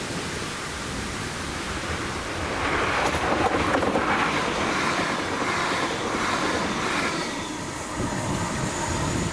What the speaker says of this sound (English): my first catch was 2J90, the 1446 ScotRail service to Edinburgh from Glasgow Queen Street with